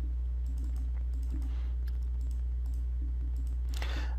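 Computer mouse clicks, a handful of light, sharp, close taps spaced irregularly over a steady low electrical hum, with no talking.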